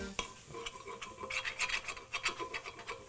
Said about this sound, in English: So I'm going to keep on stirring.